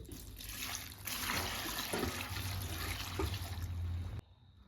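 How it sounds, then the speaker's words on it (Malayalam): Hot water pours steadily into a cooking pot of jackfruit and curry leaves, a close, continuous rushing splash lasting about four seconds before cutting off abruptly, with no talking. "കറിവേപ്പിലയും കൂടി ഇട്ടിട്ട് അടച്ച് വേവിക്കാൻ നമുക്ക് കുറച്ച് വെള്ളം ഒഴിക്കണം"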